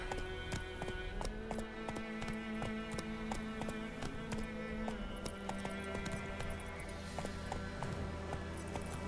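Rhythmic clip-clop of horse hooves at a steady trot in The Witcher 3: Wild Hunt, close and continuous, over a low droning background with faint music.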